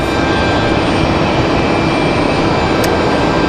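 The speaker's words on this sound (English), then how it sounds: "Delta 3246 again coming in from Atlanta" A Delta jet airliner arriving at Raleigh-Durham airport from Atlanta, its steady broadband engine roar loud and continuous throughout, with no voices.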